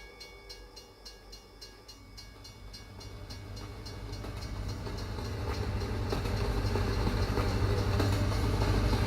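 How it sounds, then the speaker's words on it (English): A train rolls past a crossing in American Truck Simulator, its rumble and clatter growing steadily louder and nearer over several seconds with no talk. "Got a train crossing right here."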